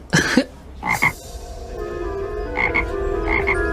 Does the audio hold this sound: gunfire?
no